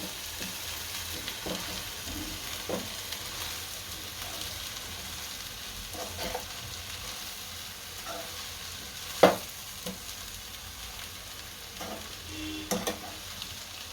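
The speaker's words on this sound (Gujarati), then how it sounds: "બધા પૌવા આમાં નાખી દઈશું। આને ભેળવી નાખશું હારા।" Poha being stirred and mixed in a pan for Punjabi-style poha, a steady low scraping and light sizzle with occasional sharp clicks of the spoon against the pan, no voices.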